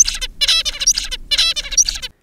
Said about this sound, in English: This is what a mature bird sounded like before the surgery.